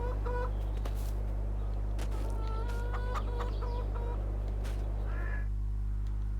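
Chickens and a rooster cluck and crow in Farming Simulator 22, a series of clear, fairly close squawks and clucks over a steady low game hum, with no talking.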